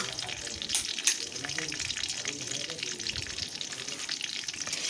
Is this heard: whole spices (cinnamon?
yes